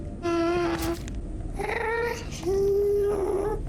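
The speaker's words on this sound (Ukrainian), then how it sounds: "А ще ви знали, що плач Гаста це звук звичайнісінької кішки" A real cat gives drawn-out, wavering cries, the source of the Minecraft ghast's crying. Three close, tonal wails follow one another with short gaps, and no one talks.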